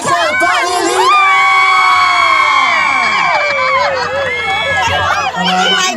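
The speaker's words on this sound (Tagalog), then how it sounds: "isa sa rason bakit tumitili kayong lahat" A large live-event crowd cheers, screams and whoops loudly and continuously for a singer being introduced, a dense wall of high-pitched shrieks that swells and stays near and full throughout.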